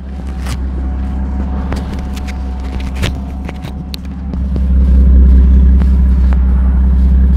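A Nismo R32 Nissan Skyline engine idling with a steady, deep low rumble, heard close and loud, swelling slightly toward the end, with a few faint clicks and clatters over the continuous drone.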